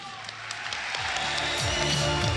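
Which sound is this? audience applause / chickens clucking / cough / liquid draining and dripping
audience applause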